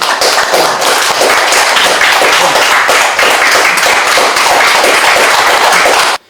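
A loud, dense round of applause welcomes director Lee Han-ju at a National Assembly press club seminar, with rapid clapping held at full strength for about six seconds before it cuts off abruptly.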